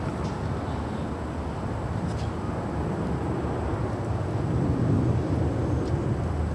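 JetBlue Airbus A320 arriving at LAX from SFO, a steady broad jet roar holding at one level throughout, moderately loud and not very close, with faint voices now and then.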